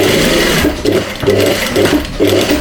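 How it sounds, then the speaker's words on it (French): A sewing machine stitches fabric right at the folded edge of a tailored collar, running in steady, loud bursts with short pauses between them, and no voices are heard. "on peut vraiment faire une petite pliure et nous coudre pile poil au bord"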